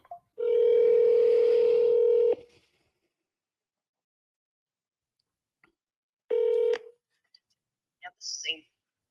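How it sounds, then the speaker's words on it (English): A telephone tone sounds while a call is placed to a company's corporate office: a loud steady tone for about two seconds, a long silence, then a second shorter tone, followed by faint clicks and brief bursts of sound. "We're going to call the corporate people again."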